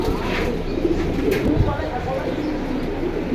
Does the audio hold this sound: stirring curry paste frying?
no